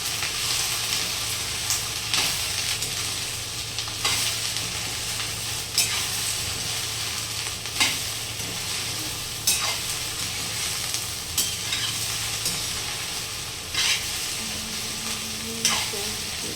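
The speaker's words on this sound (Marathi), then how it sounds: "मीठ टाकून आपण छान असं मिक्स करून घेऊया" Cauliflower curry being stirred in a pan after salt goes in, a steady sizzle with regular scraping strokes about every two seconds, close and alone with no talking.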